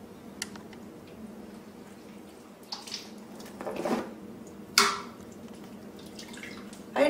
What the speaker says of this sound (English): I'm gonna take my tongs and pull them out and dip them and put them into colander so they can